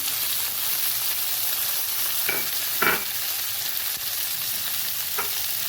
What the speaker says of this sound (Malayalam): നന്നായിട്ട് വഴറ്റി കൊടുക്കാം നമുക്ക്